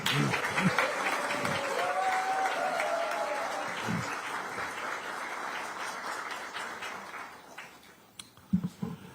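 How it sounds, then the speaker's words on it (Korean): Applause from an audience at a Democratic Party supreme council field meeting in Yeonggwang, South Jeolla, sustained clapping that fades over several seconds before a few sharp thuds near the end. "여러분 여기서 박수 한번 보내주시죠"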